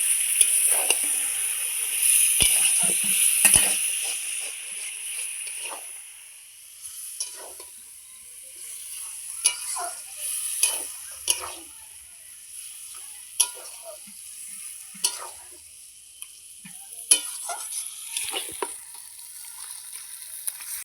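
Chicken skin fries in a pan for a chicken and cabbage dish, a bright steady sizzle under repeated sharp scrapes and clicks of stirring, close and fairly loud, with no talking.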